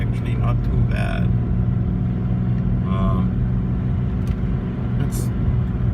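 A 32-year-old Mercedes W126 on snow tires rolls through snow, its low steady engine rumble and tire noise continuous and close throughout, with brief higher sounds over it.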